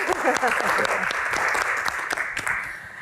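An audience applauds at a Hajj-themed Q&A gathering: steady, dense clapping from a crowd fills the whole stretch, with voices mixed in beneath it.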